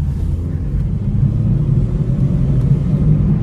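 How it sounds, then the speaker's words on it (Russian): A Hyundai Solaris with badly worn hub bearings drives along, a steady low rumbling drone from inside the cabin that holds even and fairly loud throughout. "Очень сильно у нас шумят ступичные подшипники"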